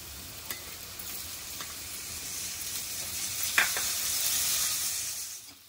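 Ginger garlic paste sautéing with chopped onion in a pan while cooking bhendi fry masala: a steady, moderately loud sizzle with occasional stirring scrapes and small pops, no voices.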